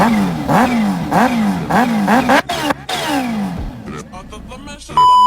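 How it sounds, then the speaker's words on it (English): A Kawasaki H2R's high-pitched supercharged engine revs hard in repeated rising bursts, loud and close, then drops away into clattering mechanical noise and a brief tone. "its supercharged engine creates a distinct high-pitched sound"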